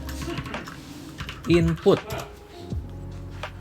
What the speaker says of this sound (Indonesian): kita cukup mengetikkan this input post